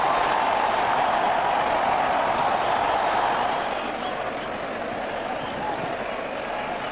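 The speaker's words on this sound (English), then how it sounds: "The crowd is going crazy." A packed cricket stadium crowd roars and applauds in a loud, continuous wash of cheering that eases slightly partway through but keeps going to the end.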